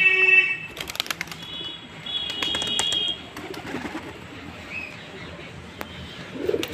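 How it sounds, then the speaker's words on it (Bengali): Pigeons coo and shuffle about close by, with soft repeated coos, scattered chirps and brief bursts of wing flapping over a faint background. "এদিকে পায়রা সব ঘুরছে"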